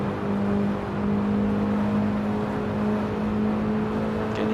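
A BMW E30 M3 in the Assetto Corsa racing game drones steadily at high revs through a corner, a constant loud engine tone with slight tyre scrub and no talking.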